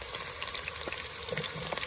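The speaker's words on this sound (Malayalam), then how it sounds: "ലേശം ചൂടായ എണ്ണയിലേക്ക് നമ്മൾ സവാള ഇടും." Onion slices frying in hot oil for a chicken feet dish, a steady close crackling sizzle with scattered pops, loud and continuous without any voices.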